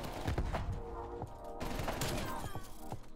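Rapid gunfire from a shooter video game crackles in quick bursts of sharp shots, fairly close but moderately quiet, with a continuous mix of game effects between the volleys and no clear talking.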